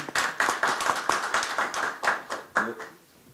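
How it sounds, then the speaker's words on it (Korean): A small audience at a policy debate forum claps to welcome a Democratic Party Daegu chapter chair, a sparse run of distinct, fairly close hand claps that thins out and fades near the end. "먼저 박수로 맞아주시기 바랍니다."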